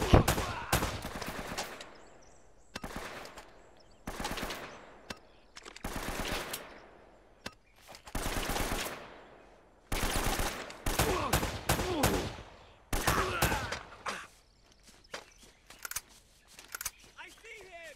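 Rapid bursts of gunfire in Uncharted 3, volleys and short fusillades repeating in clusters with brief pauses, loud and close, with a voice talking in between.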